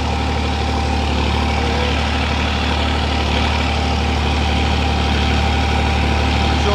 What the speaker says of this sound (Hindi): 1400 आर पी एम से चल रहा ट्रैक्टर।